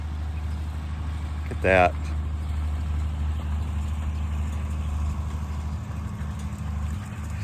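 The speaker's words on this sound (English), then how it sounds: "so we're so see this tractor right behind me" A tractor engine runs steadily in a farm field with a low, continuous rumble. A brief spoken remark rises over it partway through.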